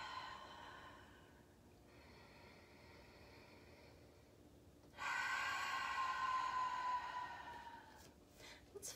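Slow ujjayi yoga breathing during a grounding practice: a soft, ocean-like hiss of breath drawn through a narrowed throat, swelling noticeably louder about halfway through into a long, close exhale.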